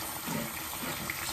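Running water from a tap splashes steadily while a facial cleansing brush is rinsed, a continuous close hissing wash with no talk.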